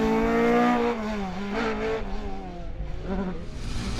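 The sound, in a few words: rally car driven hard on a stage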